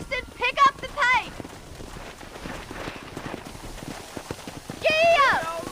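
Horse hooves galloping in the video game Red Dead Redemption, a steady, rapid clip-clop running through the whole stretch, with voices speaking over the opening and the closing moments.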